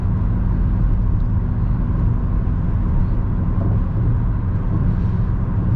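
A truck driving past on a highway, a loud, steady low rumble of engine and road noise that holds evenly throughout with no voices.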